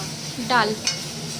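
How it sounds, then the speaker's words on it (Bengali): Greens frying and cabbage curry being cooked in a home kitchen pan, a steady sizzle with a brief scrape of stirring and a faint metallic clink, close and moderately loud. "মা এখানে রান্না করছে আজকে বাঁধাকপির তরকারি, শাক ভাজা"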